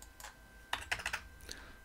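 Someone types on a computer keyboard while entering settings. A couple of soft early taps lead into a quick cluster of sharper keystrokes and one last press, all close and fairly quiet, with no talking.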